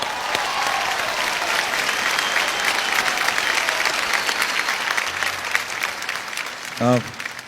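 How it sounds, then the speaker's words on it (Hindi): A large crowd at the Filmfare awards ceremony applauds Javed Akhtar with sustained, loud clapping that fills the hall, and a voice briefly cuts in near the end. "जावेद साहब के लिए एक बार जोरदार तालियां हो जाएं"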